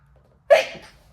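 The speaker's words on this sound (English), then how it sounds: "I'm going to sneeze." A single sharp sneeze bursts out close by during a quiet yoga session, then trails off into breath, with near silence before it.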